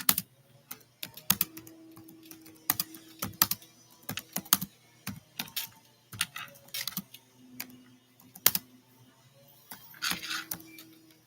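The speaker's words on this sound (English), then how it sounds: "I'm also going to type it here for callers to call in." Someone types on a computer keyboard during a live podcast: irregular bursts of close, crisp key clicks with short pauses, and a faint hum underneath.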